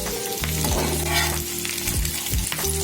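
Chicken frying lightly in a home kitchen pan gives a steady, close sizzle throughout, with a few spoon scrapes and stirring knocks over the crackle.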